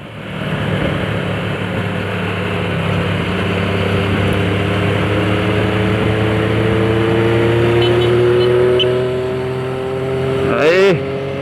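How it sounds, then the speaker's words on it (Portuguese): A Yamaha XJ6 600cc motorcycle engine runs steadily up close, its tone slowly climbing as it revs, with a quick sharp rev rise near the end. "motoca Zona Desenrolation XJ6 600 cilindradas."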